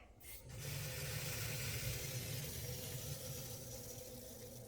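Water rushes into a reverse osmosis system with a booster pump as a petcock valve is opened, a faint, steady hiss starting after half a second and continuing evenly.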